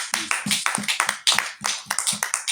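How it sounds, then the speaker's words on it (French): A church congregation claps in a steady, loud rhythm, with bursts of hand claps repeating several times per second and continuing throughout without talk. "Let's clap for Jesus"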